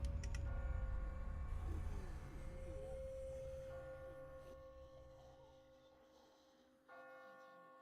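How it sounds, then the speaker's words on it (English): Bells ring out in The Walking Dead video game, a sustained tolling tone with struck onsets at the start and again near the end, ringing on and fading gradually amid quiet game ambience. "I just got spooked by those bells"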